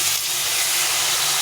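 Water poured onto radish frying with spices in oil, giving a loud, dense, steady hiss of steam throughout.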